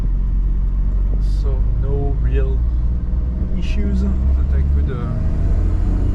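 A 1996 Suzuki Jimny YC cruising along with steady, low engine and road rumble throughout, carried under continuous nearby talk from inside the cabin.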